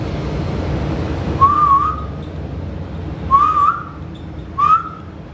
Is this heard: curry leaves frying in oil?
no